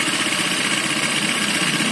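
A Honda Vario fi 125 motorcycle engine runs rough with a radiator spurting coolant, giving a continuous, close, buzzing idle with uneven, knocking vibration and no talk.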